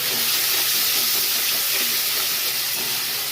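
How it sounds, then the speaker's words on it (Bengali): Chopped prawns hit a hot pan of softened onions and turmeric, setting off a loud, continuous hissing sizzle close by, broad and steady for the whole stretch with faint stirring scrapes underneath. "পেঁয়াজ একটু নরম হলে এবার চিংড়ি মাছের কুচিগুলো আমি দিয়ে দেবো।"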